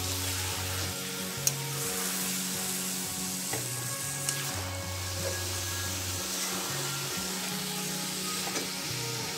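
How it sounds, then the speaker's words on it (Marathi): Small chopped pieces of cashew and almond sautéing in a pan for carrot halwa give off a constant even sizzle that fills the whole stretch, with faint stirring beneath it and a low tonal hum in the background. "आता ते छान परतून घ्यायचे।"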